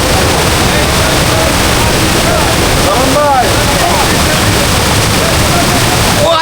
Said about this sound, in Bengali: লালঘাট ঝর্ণায় চলে এসেছি।